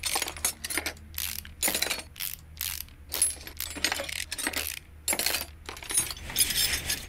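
Rapid metallic ratcheting and clinking bursts from an impact tool removing engine screws in the Car Mechanic Simulator 2018 video game, repeated in quick clusters over a low steady hum, with no talk.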